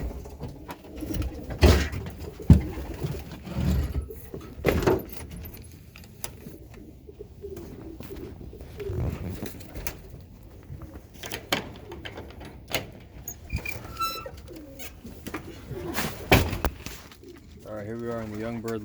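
Racing pigeons cooing inside a young bird loft, soft repeated coos with occasional wing flutters and door or handling clatter, heard near and under a voice talking.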